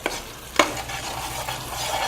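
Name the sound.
frying curry masala in pan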